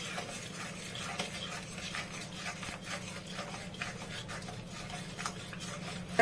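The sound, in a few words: stir-frying spice masala in a pan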